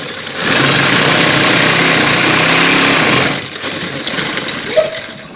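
A sewing machine stitches small tucks along a trouser hem. The motor whirs loudly and evenly for about three seconds, then stops, followed by quieter handling sounds and a brief click.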